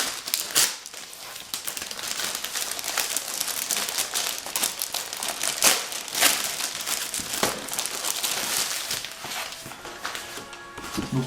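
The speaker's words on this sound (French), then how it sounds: "Donc, je vais le déballer avec vous." The plastic packaging around a Star Wars t-shirt is opened and handled up close, with continuous crinkling and crackling, sharper rustles and a few tearing sounds throughout.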